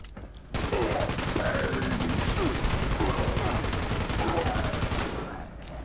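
A .50 cal heavy gun fires in Fallout 76 in one continuous loud automatic burst lasting several seconds, up close, with a voice talking faintly underneath.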